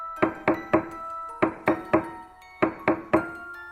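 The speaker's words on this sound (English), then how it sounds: "a knocking, soft, persistent, coming from inside the walls" Soft, persistent knocking from inside walls: about a dozen dull, hollow raps grouped in twos and threes with short gaps, close and distinct, with no talk over them.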